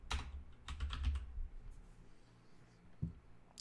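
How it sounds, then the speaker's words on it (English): Close, fairly faint typing on a computer keyboard comes in a short cluster of clicks, then scattered single keystrokes after a pause. "So I'll just type in Divi theme tutorial."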